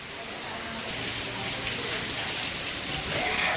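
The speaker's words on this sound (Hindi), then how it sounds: "अब बारिश फिर से तेज हो चुकी" Heavy rain falls steadily on a night of Krishna Janmashtami celebration in Gwalior, a dense broadband hiss that grows slightly louder and stays constant, close and enveloping, without clear talk.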